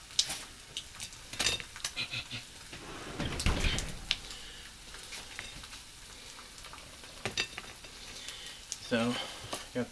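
Gravy is stirred over biscuits in a pan on the stove. Soft, intermittent scraping and faint sizzling sit close but quiet, with an occasional louder clatter.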